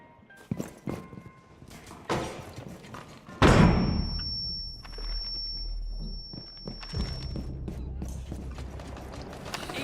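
Concussive grenades bounce around in Rainbow Six Siege, a few sharp thunks and clacks hitting hard surfaces, then one loud concussive bang with a lingering ring, followed by quieter scattered knocks and shuffling.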